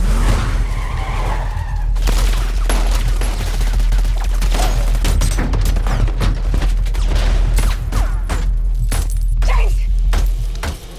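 A powerful blast from a No Time to Die action sequence, loud and dense with crashing debris, skidding and gunfire-like bursts that roll on for about eleven seconds under a heavy low rumble.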